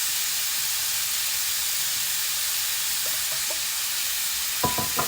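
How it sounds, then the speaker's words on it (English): Sliced pork stir-frying in a hot pan gives a loud, steady hiss of sizzling that fills the whole moment, with a few sharp spatula clicks against the pan near the end and no talking. "Now we're gonna put in a sliced pork. We're gonna stir fry this."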